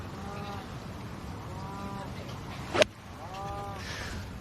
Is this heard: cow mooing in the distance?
yes